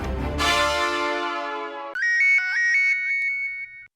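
A phone ringtone sounds loudly: first a sustained resonant chime that fades, then a bright, repeating electronic melody of quick stepped tones that plays for a couple of seconds before cutting off, with no talking.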